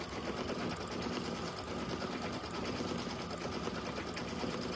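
An industrial sewing machine motor runs steadily at high speed, a loud continuous whirring hum with a fast mechanical stitching rattle throughout, no voices over it.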